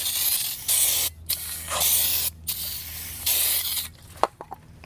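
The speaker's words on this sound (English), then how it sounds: "we're gonna go ahead and clean the rotor with a brake cleaner" Aerosol brake cleaner is sprayed onto a new rear brake rotor for a Hyundai Palisade in three long, loud, close hissing bursts separated by short pauses, followed by a few faint clicks and rattles.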